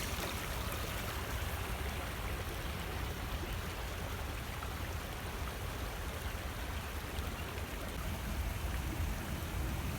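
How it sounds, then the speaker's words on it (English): Steady broadband rush of a stream running with clay-discolored water off ball fields, continuous and fairly close throughout, with no voices. "The stream flows"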